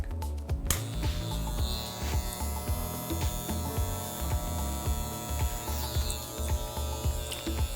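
Electric hair clippers buzzing steadily through a basic skin-fade haircut, a close low hum with faint rhythmic texture and a brief sharp burst near the start.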